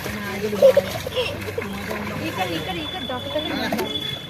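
A pet named Dodo being bathed and made to swim, with a few close splashes near the start and softer water sloshing throughout, under people talking nearby.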